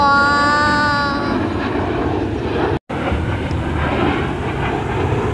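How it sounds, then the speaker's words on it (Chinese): A fixed-wing airplane roars overhead at a Labor Day air show in Cleveland, a loud, steady engine drone with a rising whine at first that settles into a broad rushing roar. "好声音好大呀，这个飞机。"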